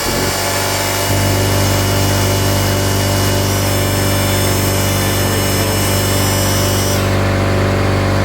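A Central Pneumatic 1/8 inch mini pneumatic die grinder screams at full speed, a loud, piercing, steady whine with a low air-driven rumble beneath. It runs close and unbroken throughout.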